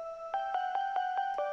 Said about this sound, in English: So I decided to pop this synth that sounds like this.